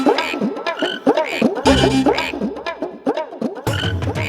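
Frogs croak in a dense, rhythmic chorus of repeated calls, loud and close, with a deeper rumble joining partway through and no talking over them.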